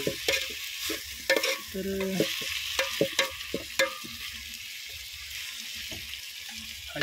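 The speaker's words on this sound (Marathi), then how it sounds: "टोमॅटो चांगल्यापैकी परतून घेऊ." Tomatoes for chicken curry sauté on a wood-fired chulha, a soft steady sizzle broken by repeated sharp stirring scrapes and spoon knocks against the pan, with a brief word spoken.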